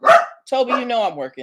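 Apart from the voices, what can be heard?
dog barking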